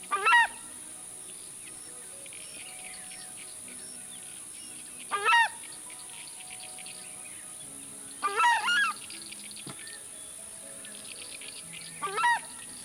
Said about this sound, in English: why are they called the Southern Screamer? Well, about to show you why.